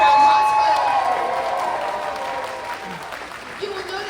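Audience applause at a cosplay contest, a broad wash of clapping and cheering from a crowd that slowly fades over a few seconds.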